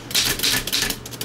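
Rapid keystrokes clatter on a 1930 Underwood No. 5 manual typewriter, a close, loud run of sharp mechanical strikes in an uneven rhythm with no voices.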